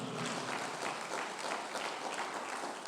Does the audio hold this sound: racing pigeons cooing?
no